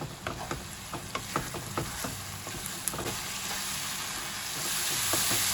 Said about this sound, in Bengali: এবার মশলাটাকে আমি ভালো করে কষাবো।